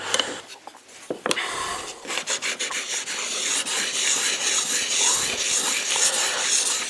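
A hand plane blade sharpened to a bevel of about 24 to 25 degrees, held in a homemade wheel-less honing guide and pushed across a sharpening stone. It makes close, continuous rasping strokes that rub back and forth with steady scraping.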